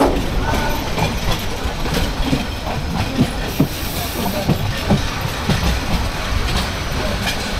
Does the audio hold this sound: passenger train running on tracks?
yes